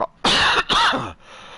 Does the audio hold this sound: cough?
yes